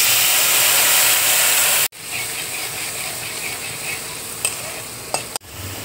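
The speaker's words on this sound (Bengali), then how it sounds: "এবার আমি তেজপাতা দিয়ে দিচ্ছি, দারচিনি, এলাচ, কালো বড় এলাচ, লবঙ্গ দিয়ে দিচ্ছি।" Whole spices (bay leaf, cinnamon, green and black cardamom, cloves) sizzle in hot fat for a rasgulla curry. A loud close hiss comes with stirring clatter and two abrupt breaks.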